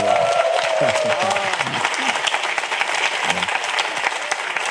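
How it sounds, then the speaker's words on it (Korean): Steady applause from a church congregation fills the clip, dense and continuous, with a few voices and brief cheers rising over the clapping. "박수."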